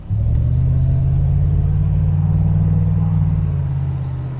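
Loud, deep Range Rover engine rumble held steady while driving, a continuous low drone with no talking.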